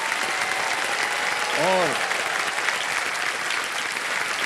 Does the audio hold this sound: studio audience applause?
yes